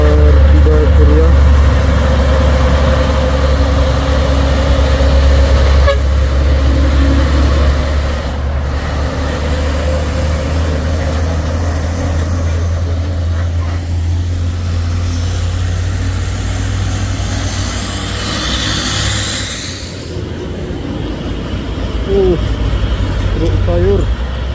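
Trailer trucks labor along a hill road, a loud low engine drone rumbling steadily for the whole stretch, with people talking over it.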